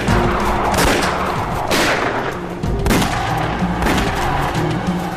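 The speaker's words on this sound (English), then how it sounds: "We opened fire on them between 500 and 600 yards" A rifle volley is fired at charging Zulus from behind a wall, with several loud booming shots and rolling reports echoing at irregular intervals over a dense, rumbling background.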